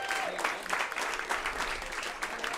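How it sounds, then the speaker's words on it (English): A live music crowd at The Station Inn in Nashville applauds the sound engineer with dense, steady clapping that holds at an even level for a few seconds, with no voices over it. "Big round of applause for Kurt."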